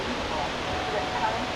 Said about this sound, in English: I've seen a few waterfalls in my life, but never so much water coming down at once.